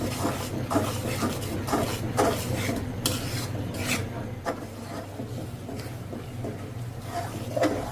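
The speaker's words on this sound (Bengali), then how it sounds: "এবার মশলাটা ভালোভাবে নাড়াচাড়া করে মিডিয়াম আছে আমি 10 থেকে বারো মিনিটের মতো কষিয়ে নিচ্ছি" A spice paste with turmeric powder is stirred and fried in a pan over medium heat, giving a continuous scraping, rasping rub with repeated spoon strokes against the pan under a steady low background hum.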